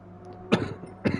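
A person coughs twice, close up, with two short raspy bursts about half a second apart over faint room noise.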